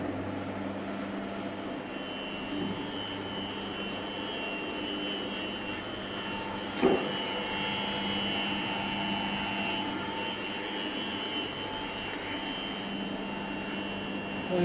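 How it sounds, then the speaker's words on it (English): An alternator driven by a variable frequency drive spins at close to 1500 RPM, giving a steady electrical whine and hum with high tonal lines over broadband whirring noise, constant throughout with one brief click midway. "So you can know the RPM of the alternator, that is 1495, almost 1500 RPM."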